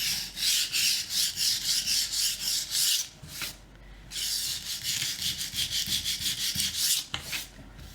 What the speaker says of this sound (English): And then I'm going to just sand these edges.